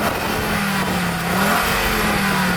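An Audi S2 Coupe's engine revs at a drag race, a continuous throaty roar with a slight rise in pitch partway through, heard close and steady against a broad wash of outdoor noise.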